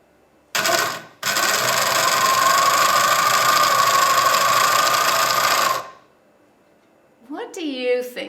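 A woman runs a sewing machine: a brief burst of buzzing stitching, a split-second pause, then a steady mechanical whir for about four and a half seconds before it stops. A voice speaks briefly afterward.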